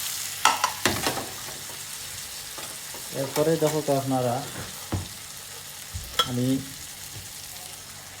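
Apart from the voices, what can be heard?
chicken and onions frying in pot for Siraji handi murg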